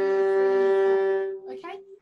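A viola, played in a children's music lesson, holds one long, steady bowed whole note for about a second and a half, close and clear, followed by a brief, softer bowed sound as it fades.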